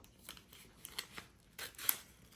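A paper envelope holding documents for a collectible AGV Pista GP RR Assen 2007 helmet being opened, with a short run of crisp paper crackles and snips, close and fairly quiet.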